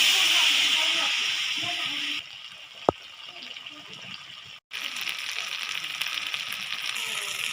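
Ground peanut paste and a little water hitting hot oil in a frying pan, a loud close hissing sizzle that dips briefly after a sharp knock, then resumes steady and bright.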